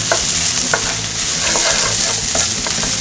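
Garlic stirred into softened vegetables in a hot pan, a continuous close sizzle and fry with small scraping strokes of the utensil recurring steadily, no talking.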